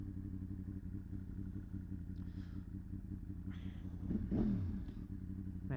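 A 1000cc motorcycle engine idles steadily and close by, its low, rich harmonic rumble constant throughout, with a brief rev and a bit of mechanical clatter near the end.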